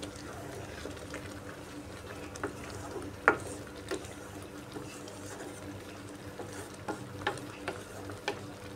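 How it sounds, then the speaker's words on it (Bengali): Chopped coriander being stirred into a masoor lentil and egg curry in a pot: faint, soft scraping and occasional light spoon clicks over a low, gentle simmering bubble. "ধনেপাতা কুচি দিয়ে নাড়িয়ে নিচ্ছি"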